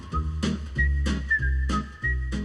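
Whistled theme tune, heard as a clear melodic whistle over a steady rhythmic accompaniment.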